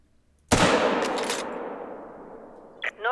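A single shotgun blast in theHunter Call of the Wild, a sudden loud crack that rolls into a long fading echo, followed near the end by a faint brief rattle.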